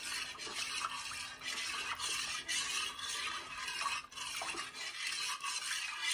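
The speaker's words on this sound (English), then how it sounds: "Give that a good stir." A spoon stirs corn chowder in a pot with repeated scraping, rubbing strokes in a steady rhythm, close and continuous.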